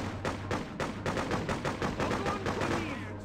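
Rapid bursts of machine gun fire in the PC game Freedom Fighters, a run of sharp repeated shots crackling across the whole stretch with a low steady hum underneath.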